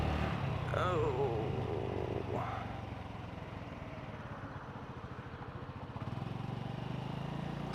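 A Honda Navi small motorcycle ridden through a town's historic district, its small engine droning steadily up close with a brief rise in pitch early on and ongoing road and wind noise.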